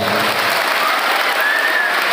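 Applause from a large crowd of santri at a modern pesantren, Darul Mughni Al-Maliki, a dense, steady roar of clapping filling the space without pause.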